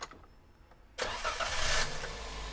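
A car engine cranks and catches after a quiet moment, jumping straight into a loud, steady idle with a slight rise in revs, close by in a home repair setting with no talking.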